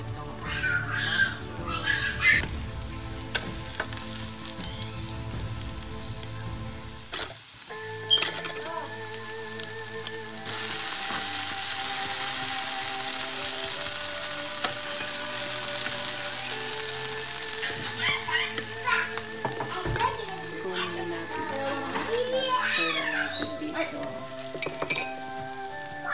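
Garlic browning in a frying pan, a broad steady sizzle that swells partway through and continues, with occasional clinks of utensils and background tones underneath.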